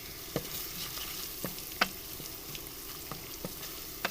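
Spices and leftover achari masala fry in hot oil for a tadka on a chana daal, giving a soft, steady sizzle broken by occasional clicks of a spoon stirring the pan.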